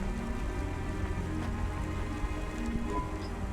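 Rain pouring in the futuristic city of the video game Cloudpunk, a constant dense patter and hiss of drops on surfaces, even and unbroken, under a low ambient hum.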